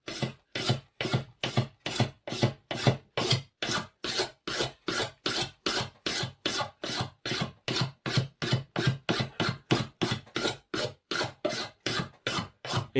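A knife scrapes old varnish off a wooden armchair along the grain in a quick, steady rhythm of rasping strokes, each one close and distinct, about three per second with no talking.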